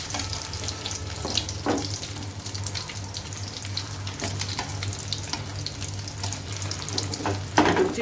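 Chicken shami kababs fry in a pan with a continuous soft sizzle and a low steady hum, punctuated by a few light clinks of utensils.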